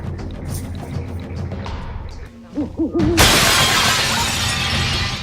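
Owl hoots wobble briefly before an owl crashes through a window with a sudden loud shatter of breaking glass, followed by a sustained bright crashing and tinkling noise.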